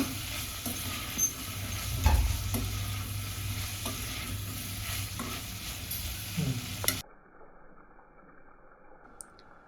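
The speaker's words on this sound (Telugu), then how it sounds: "సాల్ట్ వేసి నీట్గా కలుపుకోవాలండి" Meat curry of mutton pieces stirred in a pot after salt goes in, a steady sizzle with scraping strokes and soft squishy mixing for several seconds before the sound abruptly cuts to near silence.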